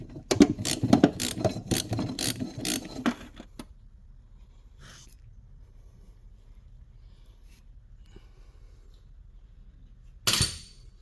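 A hand ratchet works a 12mm bolt loose from the shifter of a 2008 Lexus IS250, a fast run of close clicking for about three seconds, then near silence before a brief loud knock at the end.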